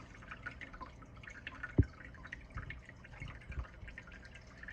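Water dripping from the media of a turtle tank's filter as it drains, a single clear drip standing out over a soft, steady background of trickling water.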